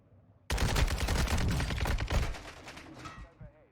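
Rapid bursts of automatic gunfire in Warzone 2.0, a loud, close string of shots starting abruptly and tapering off after about two and a half seconds, with talk underneath.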